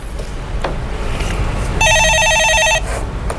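A telephone rings in a Korean stock-market call-in broadcast studio, one electronic trilling burst of about a second rising clearly over steady background noise.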